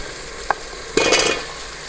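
Peas and potatoes frying in a pot for aloo matar pulao, a short close clink followed by a brief burst of sizzling and stirring that fades out.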